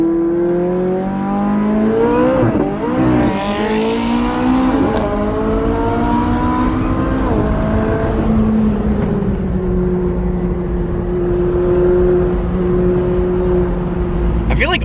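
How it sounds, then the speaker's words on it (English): Bugatti Chiron supercar rolling past on a Southern California street, its engine a loud rising and falling drone that shifts pitch as it goes by, with people talking over it. "Bugatti Chiron pulling up."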